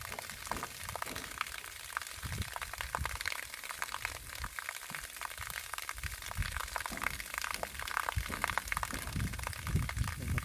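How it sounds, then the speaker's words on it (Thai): Water from a solar-powered pump with a 1500W panel setup gushing into a pool, a continuous splashing, bubbling flow heard close and steady throughout. "ตอนนี้สูบน้ำลงสานะครับ"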